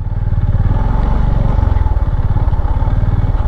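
A Honda CB350 motorcycle idles as it turns in a tight space, its single-cylinder engine thumping in a loud, steady, rapid pulse close by with no speech.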